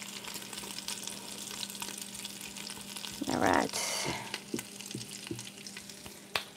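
Food sizzles in a frying pan, swelling into a loud hiss midway before settling back under quiet clatter and a brief spoken remark.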